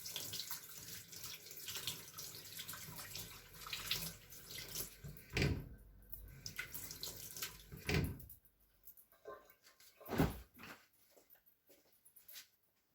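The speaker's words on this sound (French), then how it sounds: "Je vais rincer aussi le couteau" Kitchen tap running as a knife is rinsed while preparing salmon, a steady close splash of water broken by a few brief clatters and pauses near the end.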